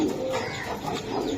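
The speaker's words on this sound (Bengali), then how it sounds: "2টা কবুতর।" Two domestic pigeons at a Bangladeshi pigeon sale cooing steadily and close by, a continuous low throaty murmur across the whole moment with no talk over it.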